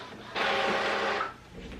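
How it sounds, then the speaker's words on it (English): A printer pulls in a sheet of sublimation paper, giving a steady mechanical whir of about one second that then fades out. No one talks over it. "we're just going to load it into the printer"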